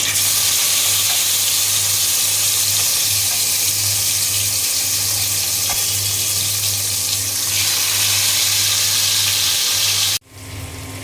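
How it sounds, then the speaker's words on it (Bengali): Tilapia fish fries in hot oil with a loud, steady crackling sizzle and a low hum underneath, lasting about ten seconds before cutting off abruptly. "ভাজি করার জন্য তেল দিয়ে দিয়েছি, তেল গরম হয়ে গিয়েছে। আমি এখন মাছ দিয়ে দেব।"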